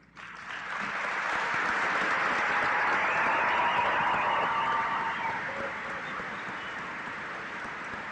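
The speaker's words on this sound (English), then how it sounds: "please stand and be recognized with a round of applause" A large graduation crowd at Harrisburg High School applauds students enlisting in the armed services, a dense wash of clapping that swells within a second, holds steady and then eases off toward the end.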